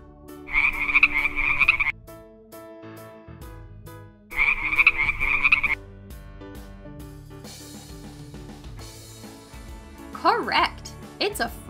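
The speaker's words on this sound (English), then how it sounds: "It's a frog." A frog croaks in two long, loud trilling bursts separated by a pause, followed by softer lower calls and a few rising chirps, with a quiet musical backing underneath.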